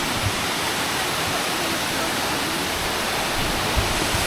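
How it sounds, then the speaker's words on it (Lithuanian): A waterfall on a hiking trail in Thailand roars as a steady, dense wash of rushing water that fills the whole sound without a break. "Va, ir turim patį krioklį."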